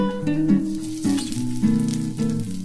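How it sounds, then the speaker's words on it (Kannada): Garlic, ginger and green chilies fry in a pan: a loud close crackling sizzle with bursts of spitting oil and a few brief stirring knocks, alone without voices. "ಹಸಿಮೆಣಸಿನಕಾಯಿ ಎಲ್ಲ ಸ್ವಲ್ಪ ಫ್ರೈ ಆಗಲಿ"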